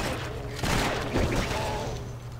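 Rapid Fire skill shots in the action RPG Torchlight 2, a dense burst of repeated projectile blasts starting partway through, loud and continuous against a background game soundtrack.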